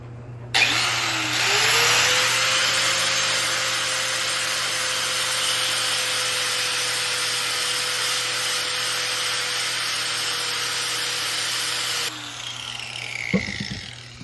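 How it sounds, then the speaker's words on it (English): Angle grinder fitted with a wire disc grinding metal, a high steady whine that spins up, holds loud and continuous for about ten seconds, then winds down, followed by a brief clatter. "Just using a grinder with a wire disc on there."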